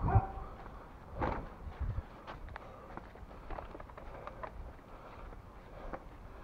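A dog barks in a summer forest, several short sharp barks early on at moderate distance, then quieter rustling and movement fill the rest.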